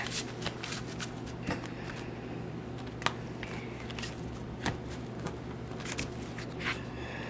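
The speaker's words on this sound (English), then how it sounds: "Now I'm just going to get a couple of oracle cards to just finish up your reading." Angel oracle cards being shuffled by hand, a soft continuous riffling and sliding with occasional sharper snaps of cards, close and quiet with no talking.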